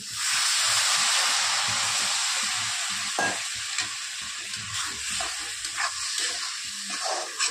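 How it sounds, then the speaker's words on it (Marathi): Water hits a hot pan of dried-fish (sukat) curry with coriander powder, turmeric and asafoetida, a loud sizzling hiss that gradually settles into softer bubbling and occasional stirring scrapes. "टाकत आहोत थोडंसं पाणी।"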